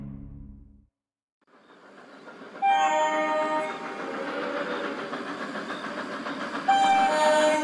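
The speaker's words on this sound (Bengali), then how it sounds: "ঝমঝম শব্দ তুলে ট্রেন ছুটছে।" A train runs at night, its steady rumbling roll joined by high sustained whistle-like tones that swell loud and hold for several seconds after a brief quiet start.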